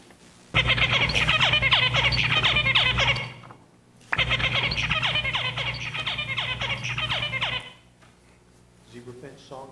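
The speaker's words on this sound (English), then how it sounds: "Zebra finch, song 1." A male zebra finch sings two close, loud bouts of its song, each a few seconds long with a quick run of buzzy, nasal, stacked notes, separated by a short silence.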